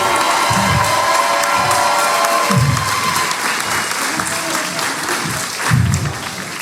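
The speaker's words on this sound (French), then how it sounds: "un grand tonnerre d'applaudissements pour les Amish-mich" A crowd at a breakdance battle applauding and cheering for the crew Amish-Mich, loud continuous clapping with whoops and shouts rising and falling, plus rhythmic low thumps of music beneath.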